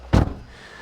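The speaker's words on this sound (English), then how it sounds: "They might even be shutting the door." A car door shuts with a single short, muffled thud, fairly close, followed by quiet cabin ambience.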